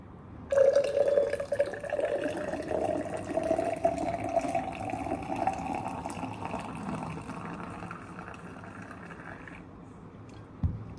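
Warm water pours in a steady stream into a cup holding coffee, a continuous liquid rush whose pitch slowly rises as the cup fills, stopping near the end with a brief knock.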